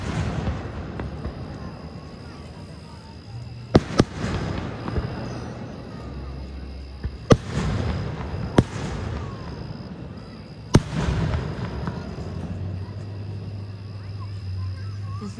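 Fireworks burst at a display in Bessemer City, North Carolina, several loud sharp bangs spaced a few seconds apart, some in quick double cracks, over a low background rumble with people talking.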